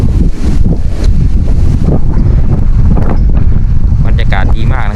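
Strong wind buffets the microphone at a mountain viewpoint near Lam Takhong, Khao Yai Thiang in Nakhon Ratchasima, a steady loud roar that persists throughout, with a person speaking faintly beneath it.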